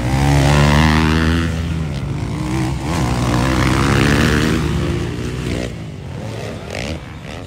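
Several motocross motorcycles race in the novice final heat at the Araw ng Lantapan competition, their engines a loud, continuous revving drone that rises and falls as the bikes pass.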